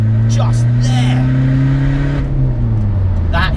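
A Skoda Fabia vRS diesel pulls hard in third gear, its engine note climbing steadily and then dropping as the revs fall, with a person talking over it inside the car.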